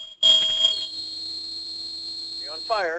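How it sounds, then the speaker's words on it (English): A home fire alarm going off, a loud piercing electronic tone holding steady close by after a burst of sharp beeps, with a voice speaking over it near the end. "That was literally my fire alarm."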